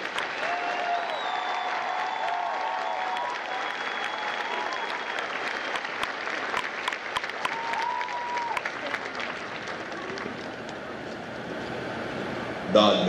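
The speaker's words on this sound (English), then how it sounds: "please join me in a round of applause for the company staff of Charlie Company." Applause for the company staff at a Marine recruit graduation ceremony in San Diego, a steady outdoor wash of clapping from a large crowd, moderately distant, with whoops and cheers rising over it.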